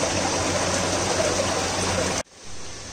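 Water gushes steadily out of the filter pipes of an aquaponics system, a loud close rushing flow that cuts off suddenly and drops to a quieter trickle.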